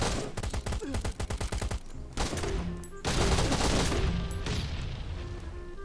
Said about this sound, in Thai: เมื่อกี้มีคนยิงผมด้วยนะ